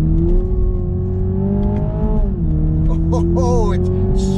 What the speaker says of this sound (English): So let's go into Sport. Wow, instantly much louder exhaust.